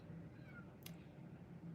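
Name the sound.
cat crying to be let in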